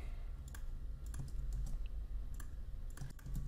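A computer keyboard is typed on during a Houdini software tutorial, quiet irregular clusters of key clicks close by with no speech over them.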